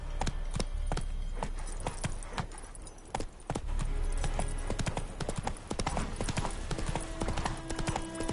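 A horse's hooves clip-clop steadily in The Witcher III gameplay, a rapid, continuous trot of crisp hoofbeats over outdoor game ambience.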